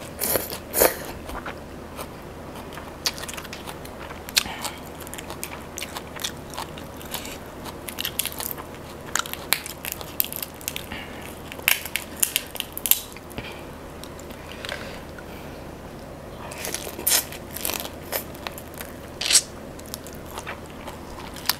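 Close, loud crunching and chewing of spicy steamed large shrimp heads, with repeated crisp bites and wet squishy chewing in irregular bursts throughout and no talking.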